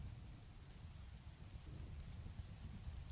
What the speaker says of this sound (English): Ooh, it's thunderstorm.